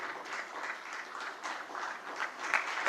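An audience at a school old students' association inauguration claps together, a moderate, steady patter of many hands that swells slightly near the end, heard alone without speech.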